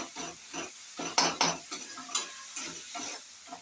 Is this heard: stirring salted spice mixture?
yes